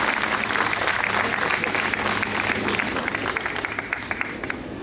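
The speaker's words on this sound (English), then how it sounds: "please, can we give a round of applause for our new trustee, Chris Economou." Applause at a Muttontown swearing-in ceremony for a new trustee: a crowd claps steadily and densely for about five seconds. The sound is loud and sustained, then thins slightly near the end.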